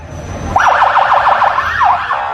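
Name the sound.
patrol police car siren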